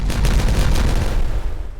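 A single loud, rumbling explosion from a Timberborn video game booms with a deep low-end burst that slowly decays, heard alone.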